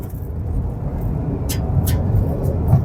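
A GAC Emkoo hybrid crossover accelerating hard in sport mode on an open road, a steady low engine and road roar building in loudness, with brief tire noise from inside the cabin.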